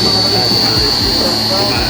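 A 5 kW electric motor runs a solar-powered irrigation water pump on a farm in Karawang, giving a loud, steady hum with a high whine on top, while someone talks over it.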